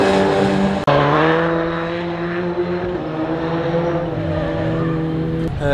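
A rallycross car drives on the track at Tor Słomczyn, its engine droning loudly and steadily with a sharp gearshift break near the start, then a sustained, slightly varying tone.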